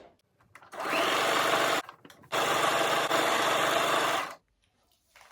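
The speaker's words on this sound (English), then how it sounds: "take it to your sewing machine and stitch from here to here" A sewing machine whirs in two continuous bursts of stitching fabric for a turban, separated by a brief pause, close and steady.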